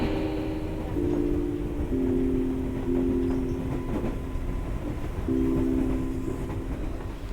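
A train rumbles steadily along the rails with rain falling on its windows, a continuous low roar and faint rhythmic clatter, sustained tones riding over it, no talking.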